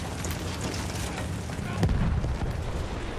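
Explosions erupting around the player in the Battlefield 1 war game, a dense rumbling wash of blasts with one heavier boom near the end, loud and continuous with no talk.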